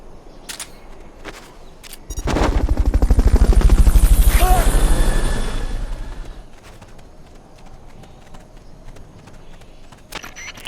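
A helicopter during a Fulton recovery in Metal Gear Solid: Peace Walker, a loud rotor whir swelling in after a few clicks, holding for several seconds, then fading out to quiet game ambience.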